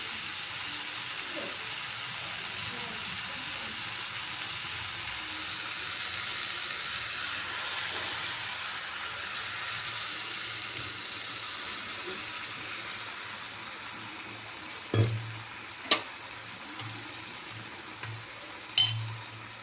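Bottle gourd curry with milk simmers in a pan, giving a steady, soft bubbling hiss throughout, with a few sharp utensil clinks near the end.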